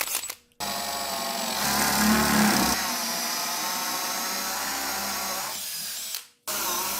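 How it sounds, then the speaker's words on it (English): A 1 1/8 inch Forstner bit bores through an arcade control panel with a hand drill, a steady loud whine running about six seconds with a brief ramp up at the start and a stop at the end. "then drill it with my 1 1/8 Forstner bit"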